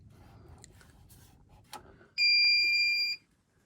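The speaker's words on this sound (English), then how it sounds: "So when I turn the inverter on" A brief click, then a loud, steady high-pitched electronic tone with harmonics that holds for about a second before cutting off, as a 1000W pure sine power inverter switches on in an off-grid cabin.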